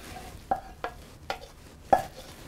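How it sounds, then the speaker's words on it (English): Cooked pasta and buckwheat groats being stirred together for kasha varnishkes: five or six distinct spoon knocks and scrapes against the pot at a steady pace, close and moderately quiet, with no talking. "And I just need to stir all this up until it's evenly combined."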